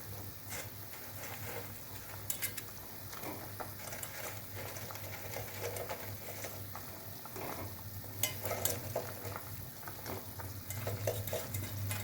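Fried dhokas, a lentil-cake dish, dropped into a boiling vegetarian gravy that keeps bubbling and sizzling steadily, with close stirring and a few sharp spoon clicks against the pan and no voices.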